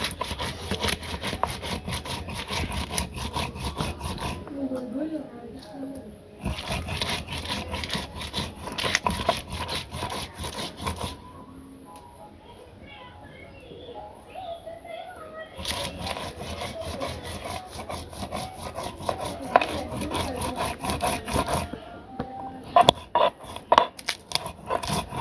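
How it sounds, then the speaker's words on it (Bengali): Spices being ground by hand on a grinding stone in a village kitchen for a red country-chicken curry, a steady back-and-forth scraping rub that keeps a close rhythmic pattern, broken by a few quieter pauses. "ততক্ষণ আমি মশলাটি বেটে নিই"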